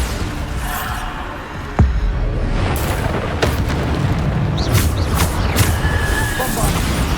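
The Bombarda spell explodes in Hogwarts Legacy, a sharp blast followed by rumbling booms and crashing debris under loud continuous game action, with a voice calling out spells.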